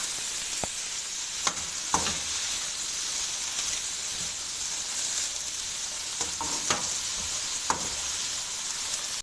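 Cabbage fries lightly in hot oil, giving a continuous close sizzle punctuated by several sharp clicks and taps of a utensil against the pan.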